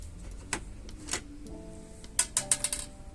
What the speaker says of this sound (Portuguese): Então retiramos esse parafuso de cima.